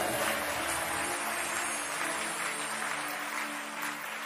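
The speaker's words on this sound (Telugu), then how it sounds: "గట్టిగా చప్పట్లు కొట్టాలి." A large audience claps loudly in a dense, continuous wash of applause that holds steady for several seconds and eases only slightly toward the end, with no voices over it.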